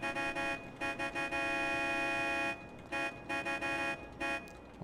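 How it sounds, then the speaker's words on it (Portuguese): A car horn in the GTA V video game honks in a series of repeated toots, some long and some short, loud and close without talk. "Deixa eu buzinar aqui, ó."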